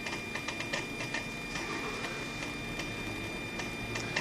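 Mercedes S600 electronic throttle units twitching on their own, a quick irregular ticking and clicking that keeps going steadily and faintly against a low mechanical hum.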